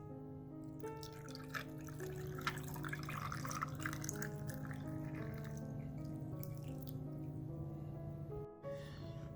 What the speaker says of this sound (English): Let's strain it into a jar of ice.